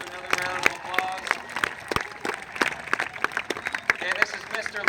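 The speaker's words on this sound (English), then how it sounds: "Give her another round of applause." An audience at a 2016 school employee-of-the-year assembly applauds an honoree with a steady patter of claps, while a voice talks over the clapping throughout.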